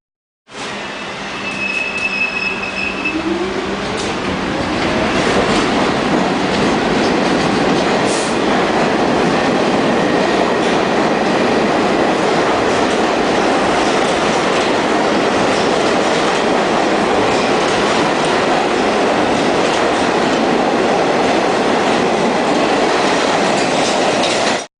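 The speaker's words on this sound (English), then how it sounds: "So first, let's look at R40M what their sounds like." A New York City subway R40M train with General Electric equipment runs loud and steady, a rising motor whine opening into continuous rumbling rail noise with clickety-clack and some wheel squeal, close and sustained throughout.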